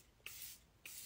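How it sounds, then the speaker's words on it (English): Perfume is sprayed from a bottle in two short hissing bursts separated by a brief pause, close and crisp in a quiet room. "I feel like this is my favorite part in getting ready, is to spray perfume."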